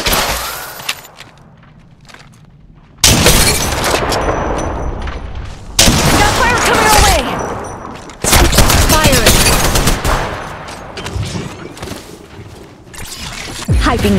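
Gunfire in Apex Legends Mobile in Kings Canyon: loud, dense bursts of rapid shots and fusillades break out again and again after a quieter opening, close and harsh, with heavy impacts between volleys.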